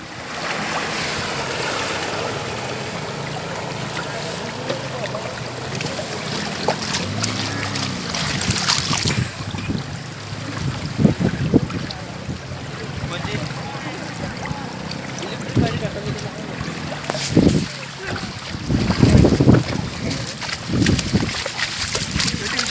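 Floodwater pours down from a raised road embankment beside a river near Kolhapur, a continuous rushing wash of water with gusty wind buffeting the microphone, while someone talks intermittently over it.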